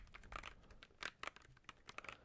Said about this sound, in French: pour ce dernier trigger, on a là un clavier